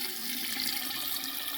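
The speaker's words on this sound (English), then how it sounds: "right, so I'm gonna run the hot water." Hot water runs steadily from a sink tap into a basin being cleared of a clog, a continuous close splashing rush with no talk.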